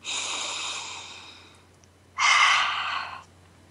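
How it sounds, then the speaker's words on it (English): Two deep breaths taken during a guided relaxation exercise, a long inhale followed by a louder, sharper exhale, close and clear with no talking. "I want us to instead take a deep breath"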